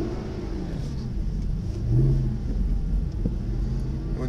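Mercedes SLS AMG engine on a track at Benzworld, a steady low rumble that swells briefly as the car gains power, heard from inside the cabin without talk.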